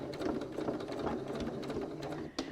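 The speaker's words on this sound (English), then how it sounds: "I'm top stitching over the top of my top stitch." A sewing machine runs a line of top stitching on a cylindrical case, a fast, even mechanical chatter of needle strokes at close range that stops abruptly just before the end.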